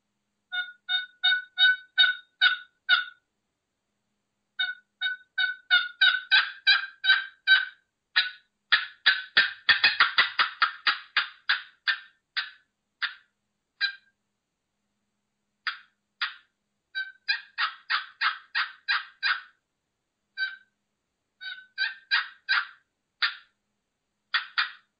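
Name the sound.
Woodhaven cherry wood turkey call imitating a hen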